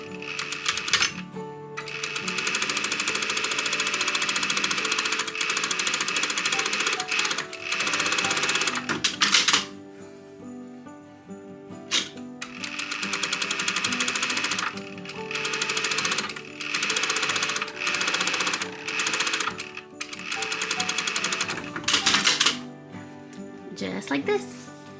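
A sewing machine stitches a cloth casing for boning down the center onto snake-print fabric, running in long steady bursts separated by brief pauses, with soft talk faintly underneath.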